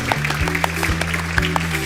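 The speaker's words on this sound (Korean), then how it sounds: "다같이 박수" Steady applause from an audience with scattered claps standing out over a continuous wash, heard alone and at even loudness throughout.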